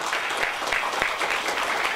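A hall audience claps steadily at a scholarship certificate ceremony at a temple, a dense, even patter of many hands at moderate volume, without any talking.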